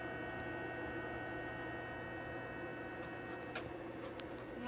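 Gourmia GTF7650 digital air fryer oven running on broil, a faint steady electrical hum and fan whir with light ticking, no talking.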